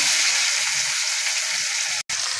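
Thinly sliced onions frying in a pan for egg curry, giving a steady, loud, bright sizzle that carries on evenly throughout with a brief dropout near the end.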